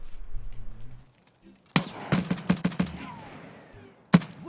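Gunfire in the video game Escape from Tarkov: a rapid burst of sharp, loud shots after a quiet pause, then a single close shot, with low game ambience underneath.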